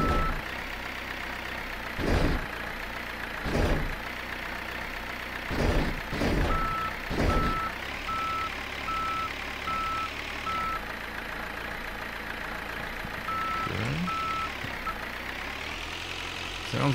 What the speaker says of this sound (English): Sounds like it has a diesel in it.